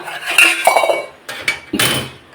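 Metal cooking pots clanking and scraping as they are moved about, a few bright rattling knocks in quick succession, nearby.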